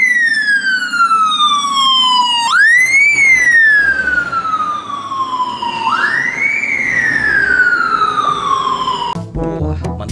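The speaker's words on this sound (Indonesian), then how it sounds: "Di sini ada mobil pemadam kebakaran." A fire engine siren wails loud and close, sweeping down in long falling tones and then rising again in repeated cycles, with a horn-like blast near the end.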